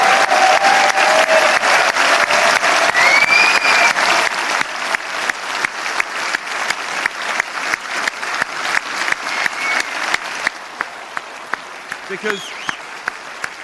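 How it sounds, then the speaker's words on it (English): A crowd at a Brexit Party rally in Southport applauds loudly and steadily, a dense continuous roar of clapping that later thins into rhythmic, more separated claps, with a voice briefly speaking near the end. "Please be on your feet and let's give them a huge round of applause."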